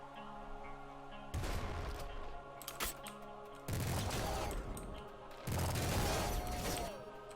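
Wave gun fire in Nuclear Throne comes in three dense, loud bursts of rapid crackling shots with warbling tones, separated by quieter stretches of game sound.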